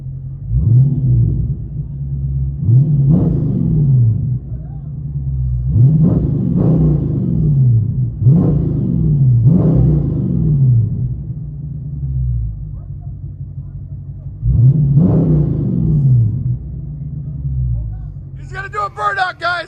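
Inside a Dodge Charger Scat Pack fitted with Flowmaster Outlaw mufflers, rear delete and 5-inch tips, a deep, loud exhaust roars in repeated rev surges that rise and fall over a constant low rumble. A brief burst of higher noise comes near the end.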